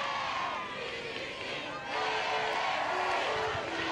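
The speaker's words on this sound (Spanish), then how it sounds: "El aplauso para todos los voluntarios que fueron parte de Santiago 2023" A large stadium crowd at the closing ceremony of the Santiago 2023 Parapan American Games cheers and applauds the volunteers, a broad roar that swells midway, heard under a commentator's voice.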